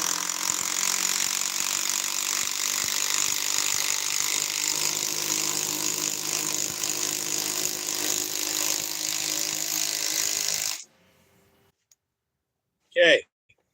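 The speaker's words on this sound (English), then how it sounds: "It's an impact wrench." A cordless impact wrench runs loud and steady for about eleven seconds, then cuts off into near silence before one short burst near the end.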